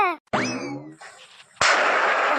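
A Diwali firecracker goes off on a street, a rising whistle followed by a sharp crack and a loud sustained crackling burst, close and alone.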